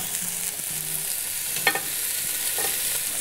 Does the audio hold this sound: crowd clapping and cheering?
no